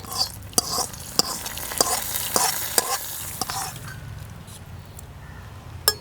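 A spoon stirs rasam poured into a hot tempering of coconut oil, popped mustard seeds, dried red chillies and curry leaves; a loud hiss with rhythmic scraping stirs that settles into a softer, fading sizzle.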